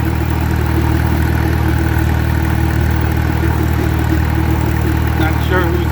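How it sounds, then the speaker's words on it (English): A WD tractor on a tractor drive runs at a steady, loud engine note throughout, a constant close mechanical drone with a voice faintly audible over it. "on the tractor drive, I got my WD"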